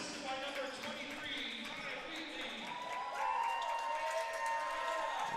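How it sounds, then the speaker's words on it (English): A crowd cheers after a Wolves goal at a junior A coed lacrosse championship final between the Sackville Wolves and the Saint John Rapids, a steady roar swelling slightly under a commentator's talk. "Here you can see the cheers from the crowd there after the Wolves goal"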